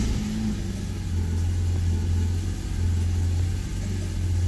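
BMW 750 with a V12 engine and electronic exhaust cutout valves, a steady low droning rumble heard from inside while driving, even and continuous with slight swells.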